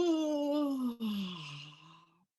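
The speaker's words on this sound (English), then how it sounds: "So I'm going to invite you right now to yawn." A person yawns during a guided relaxation exercise: one long, drawn-out voiced yawn, close and clear, sliding steadily downward in pitch before trailing off into silence.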